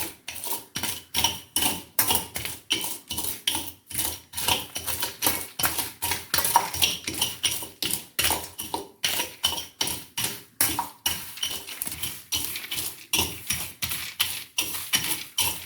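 Groundnuts rubbed under a flat-bottomed glass to loosen their skins make rapid, regular scraping and clinking strokes, close and fairly loud, repeating steadily with no voices.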